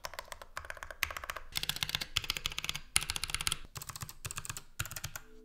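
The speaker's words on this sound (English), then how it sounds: "This is what they call the THOCC sound." Bursts of rapid typing on a custom mechanical keyboard, deep muted thock keystrokes in quick clusters separated by short pauses, close and fairly quiet.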